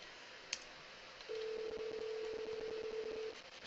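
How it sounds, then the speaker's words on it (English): A ShoreTel phone places a call through its call manager over SIP trunks: a brief click, then one sustained electronic tone that holds for about two seconds before stopping. "let's go ahead and use the call manager"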